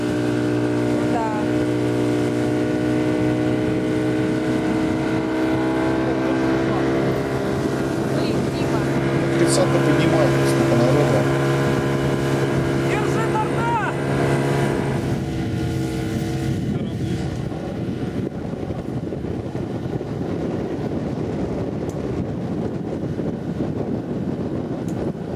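A Korsar Komandor 430 Pro motorboat runs across open water toward islands, its engine a steady drone under heavy wind buffeting on the microphone, the hull noise easing somewhat in the last stretch.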